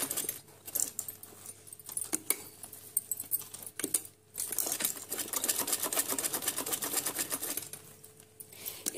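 Sewing machine stitching fancy trousers, running in a steady fast rattling patter with brief pauses and restarts, close and clear with no talk.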